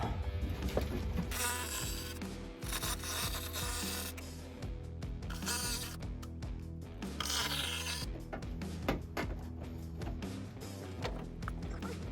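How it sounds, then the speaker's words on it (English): A jigsaw cuts through a Toyota Tacoma fender flare to fit LED pods, a loud, continuous rasping buzz that surges and eases in several bursts, close up and without talk. "the jigsaw."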